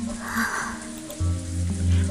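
Rain falling in the Umineko visual novel, a steady soft hiss of game ambience with low tonal music layered beneath, holding evenly for a couple of seconds with no talking.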